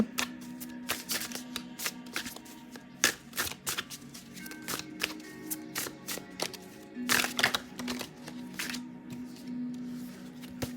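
Tarot cards being shuffled by hand in quick irregular bursts of riffling and snapping, close and fairly quiet, with brief pauses between flurries.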